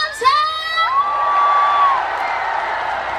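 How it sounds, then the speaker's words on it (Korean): A crowd at the Yangsan Sapryang cultural festival concert cheers, whoops and applauds on cue, with a high shrill whistle-like cheer rising above a sustained roar of clapping. "더 힘차고 큰 소리로 박수와 함성!"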